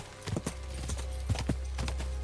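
Horse hooves clip-clop on a road in the medieval video game Kingdom Come Deliverance. The footfalls are brisk and fairly close, spaced unevenly over a low, steady background hum, with no speech.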